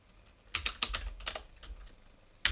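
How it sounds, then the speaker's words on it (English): Quick bursts of keystrokes as code is typed on a computer keyboard, close and fairly faint, in short irregular clusters with a pause before a final sharp clatter of keys. "now you can go ahead and type in some code"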